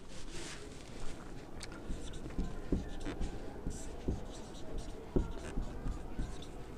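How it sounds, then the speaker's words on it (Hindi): A hand writes a name on paper, continuous scratchy pen strokes with small taps, close and fairly quiet, while a person talks over it. "तो जैसे हम लिख रहे हैं"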